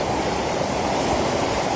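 A swollen stream in flood after a mudflow in Uzbekistan, running over its banks near a bridge, gives a loud, steady roar of rushing water with no pauses and no voices.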